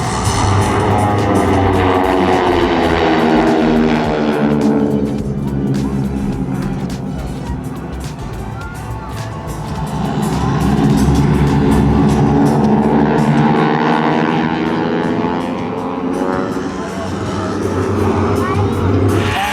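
Air show aircraft flying a loop in diamond formation, their pilots constantly working the throttles: a broad engine roar that swells, dips through the middle, then builds loud again, with a faint crowd or announcer sound beneath.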